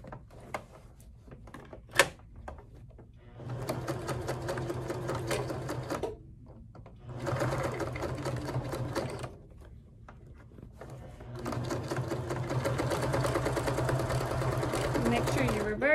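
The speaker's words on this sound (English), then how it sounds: "we'll be sewing right across here" A sewing machine stitches placemats together into a tote bag in three long, steady runs of close mechanical whirring, separated by brief pauses with small clicks and handling sounds.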